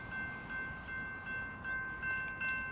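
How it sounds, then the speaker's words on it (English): A BNSF freight train rolls past on a mainline, a steady rumble of rail noise with a faint horn tone held throughout and brighter clatter building toward the end. "Here comes a train."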